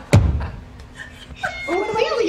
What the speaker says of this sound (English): And oh, there's a cat.